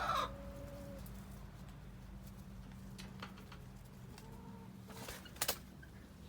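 Rescued backyard homestead chickens cluck now and then at close range, with a brief louder burst of clucking near the end over a quiet, steady background.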